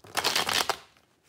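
Tarot cards shuffled by hand in a quick riffling burst of crisp papery flutter, close and fairly loud for under a second, then fading to quiet.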